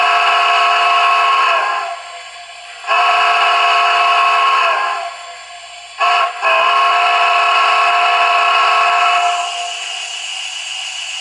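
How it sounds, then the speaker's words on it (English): PS3 sound system in a model PRR G5s steam locomotive sounding its crossing whistle: long, loud chime blasts with a short pause, then a brief toot and a final extended blast that tapers off, heard alone. "Now here is SXS. This is your crossing sounds."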